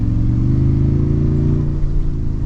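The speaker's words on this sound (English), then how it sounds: "It sounds like a V8 on the inside." Steady V8 engine of a 2023 Toyota Tundra TRD Pro truck heard from inside the cabin while driving, a loud, continuous low rumble with smooth, slightly rising revs and no talking.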